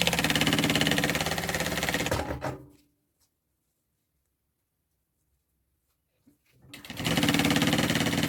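A sewing machine hums steadily as it stitches a bag's zipper to its lining, stops for a few silent seconds, then starts up again close by at the same even pace.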